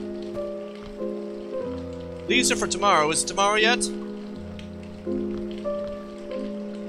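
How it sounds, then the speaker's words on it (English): Rain falls steadily in a video game, a continuous patter under a sustained musical drone, while a voice speaks briefly in the middle. "How long has it been raining?"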